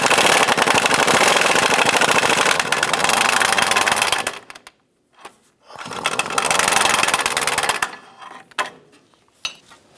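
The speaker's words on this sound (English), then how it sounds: "Using a 15mm deep socket and swivel, we're going to remove this forward bolt here." Rapid ratcheting of a 15mm deep socket on a swivel removing an engine mount bracket bolt on a 1994-2004 Chevrolet S10, loud close clicking in two long runs with a pause and a few final clicks.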